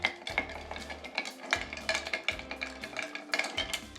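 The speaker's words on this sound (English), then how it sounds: "so we got our ice in there. Let's give these both a good mix" Ice rattling and clinking as a bar spoon stirs two cocktails in mixing glasses, a rhythmic series of close, bright clinks and swirling scrapes, with no talk.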